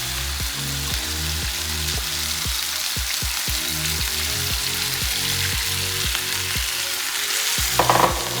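Sauce poured into a hot pan over golden-browned food sizzles loudly and steadily, with a low rhythmic clanking of stirring or pan contact through most of it and a brief sharper clatter near the end.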